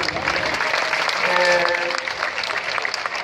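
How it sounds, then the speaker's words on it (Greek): Steady, full applause fills a room at a 2015–2016 graduation ceremony, loud throughout, with a voice briefly rising over the crowd's clapping. "Ένα μεγάλο μπράβο και ένα χειροκρότημα σε όλους σας"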